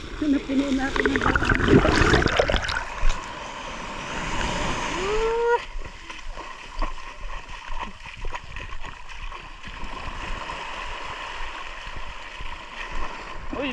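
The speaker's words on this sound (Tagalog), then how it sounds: "Medyo lumalakas-lakas na yung tubig ngayon dito." Ocean waves surge and splash along the shore at a beach in Paracale, Camarines Norte, loud and rushing up close at first, then settling into a steadier wash while people talk over it.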